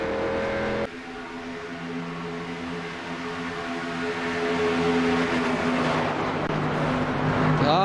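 Race car engines drone steadily in the iRacing video game, a NASCAR K&N field at Daytona, with a sustained whirring roar that swells louder toward the end as cars close in.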